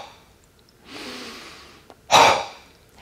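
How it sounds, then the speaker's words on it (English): A yoga exhale pushed through an O-shaped mouth like a light cough, heard as a soft breathy inhale and then one sharp, close, forceful puff of air. "we're going to make an O shape with our mouth. And almost as if you are lightly coughing and clearing your throat, we'll use that as our way of exhaling"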